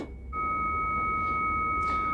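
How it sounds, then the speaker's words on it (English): A steady pair of pure electronic tones switches on and holds, loud and continuous, like a modem answering on a phone line. "wait for the other modem to answer the phone by sending out its tone"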